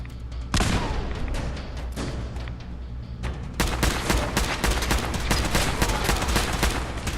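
Loud, dense gunfire in the Fallout 4 video game, with rapid automatic bursts and shots that start sharply after a brief lull, drop back briefly, then surge into a second sustained volley.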